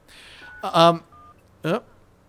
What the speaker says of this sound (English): Everything pops up and makes a nice, neat little beeping, booping sound